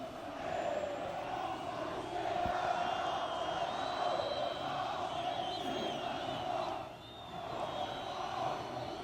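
A large crowd in Green Square, Tripoli, gathered around Muammar Gaddafi, roars and chants in a dense, unbroken wall of voices with scattered shouts and whistles, dipping briefly before surging again.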